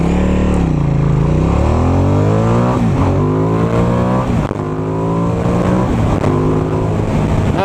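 A Ducati motorcycle accelerating hard, its loud close engine note climbing in pitch through repeated rising sweeps with brief dips at gear changes, alone and dominant throughout.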